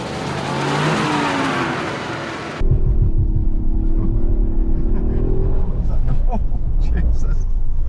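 A Toyota GR Yaris accelerating hard in reverse, its engine and whining drivetrain climbing in pitch, first muffled and then loud and close, with a person talking over it.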